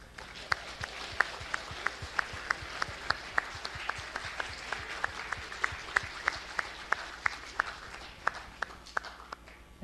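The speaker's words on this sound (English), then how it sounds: "let's give a motivating applause to everyone" An audience at a hackathon awards event claps for the participants, a steady run of distinct, rhythmic hand claps at moderate volume over a quiet hall, lasting nearly ten seconds before trailing off.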